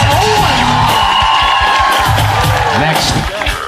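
A studio audience on a variety show claps and cheers loudly throughout, with whoops and yells blending into dense crowd noise, alongside voices.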